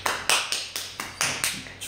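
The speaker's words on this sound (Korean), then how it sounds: "아, 박수." Short burst of hand clapping, about eight quick claps in a steady rhythm, close and fairly loud with no talk.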